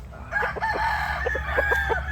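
A rooster crows loudly nearby, its drawn-out call rising and breaking, with clucking fowl around it and no talk.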